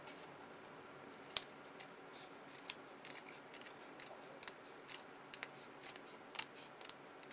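Scissors snip paper for a handmade owl treat box, with faint, close crisp cuts coming in irregular bursts against a quiet room.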